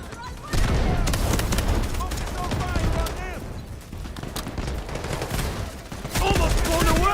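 Gunfire and a launched grenade from the Delta Force video game, loud dense bursts of shots and booms filling the scene, with a voice talking over parts of the battle.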